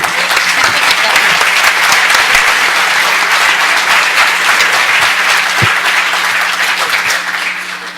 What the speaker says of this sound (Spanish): yo quisiera que me acompañaran a darle un aplauso por su labor